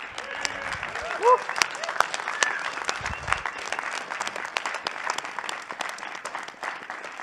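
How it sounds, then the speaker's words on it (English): Sustained audience applause and an ovation closing a blockchain developer conference, a dense steady roar of many hands clapping close and loud throughout, with a brief voice rising over it partway through. "Ovation"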